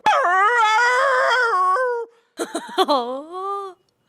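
A human voice imitates dogs, drawing out a long howling whine and then a few yipping barks into another howl.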